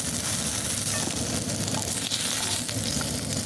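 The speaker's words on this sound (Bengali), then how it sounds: "শিম আলু ভাজা হয়ে গেছে, এখন আমি শিম আলুগুলোকে তুলে নেব" Beans and potatoes fry in hot oil with a dense, continuous sizzle and crackle, close and steady throughout.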